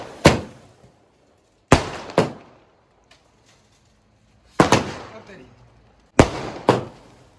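Diwali skyshot fireworks launched close by: five sharp, loud bangs in quick pairs and singles, each with a short ringing decay, separated by near-silence.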